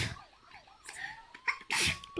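A single sneeze bursts out loud and close near the end, after quieter rising-and-falling tones.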